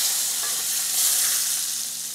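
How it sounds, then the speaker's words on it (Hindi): Steady, loud sizzling hiss of hot oil and fried onion tempering poured over chana dal with bottle gourd, continuous and close, with no voices. "ये हमारा प्याज का तड़का तैयार हो गया, ये हम ऊपर से डालेंगे"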